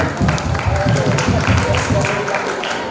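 Audience applause at a Paslon 1 election campaign rally, steady crowd clapping for about three seconds with voices mixed in.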